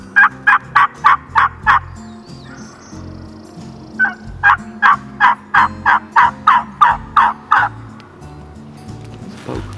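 A wild turkey gobbles loudly and nearby on a spring hunt: one rapid rattling gobble, then a pause, then a longer run of gobbling pulses, over faint low rustling.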